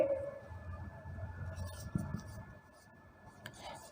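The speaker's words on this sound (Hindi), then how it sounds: "यहां पे मैं दोबारा फॉर्मूला लिखता हूं बच्चे" Faint scratchy strokes of a formula being written on a board during an accountancy lesson, soft and intermittent against a low room hum.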